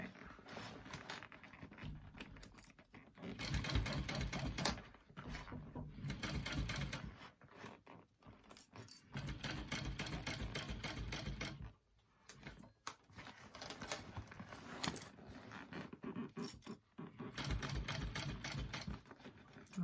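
A sewing machine stitches a shoulder bag in steady whirring runs of several seconds, close and fairly loud, with short pauses between runs.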